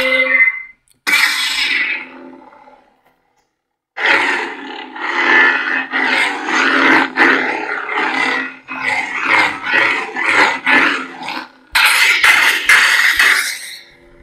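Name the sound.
Neopixel lightsaber sound font on Proffie board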